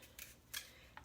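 A handheld vegetable peeler scrapes the tough skin off a broccoli stem in three short, close rasping strokes, each a bright scratchy burst with quiet pauses between.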